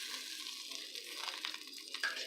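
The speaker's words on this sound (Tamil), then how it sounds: "இப்போ தாளிச்சிடலாம்." Spices for tempering kumitti keerai greens sizzle and crackle in hot oil, a bright, continuous spitting hiss with small pops, close and moderately faint.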